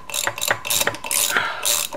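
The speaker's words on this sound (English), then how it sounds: "you can probably get on it with a socket" A socket ratchet loosens hub bolts on a 1974 Honda CB360T Scrambler, giving repeated close-up clicking bursts in quick irregular runs with no voices.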